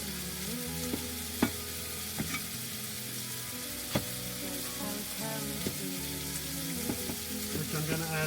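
Food sizzles steadily in a pan with spring onion, salt and pepper at an off-grid farm campsite, a close continuous crackle with occasional clicks and stirring knocks.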